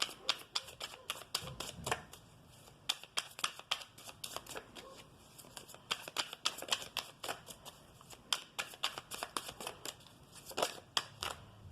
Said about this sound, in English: let's get some oracle cards